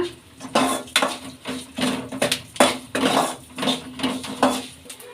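A metal spoon scrapes and clinks against a kadai as cumin, fenugreek and red chillies are dry-roasted for tambuli, with repeated rhythmic knocks and stirring scrapes, close and fairly loud, and no talking.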